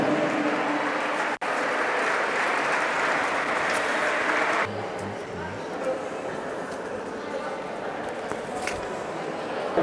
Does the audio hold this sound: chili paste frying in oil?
no